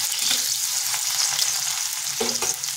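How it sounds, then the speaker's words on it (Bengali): Potato pieces crackle steadily as they fry lightly in a pan, with a few stirring scrapes breaking through the constant close sizzle. "আলুটাকে এইভাবে নেড়ে চেড়ে হালকা ভেজে নিয়েছি।"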